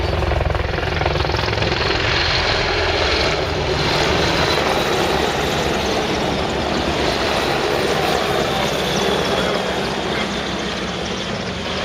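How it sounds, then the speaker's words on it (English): A Merlin Mark III helicopter flies at an air show, its loud, steady rotor and engine roar holding constant throughout without a break. "An immensely sleek profile, the Merlin Mark III cruises well in excess of 100"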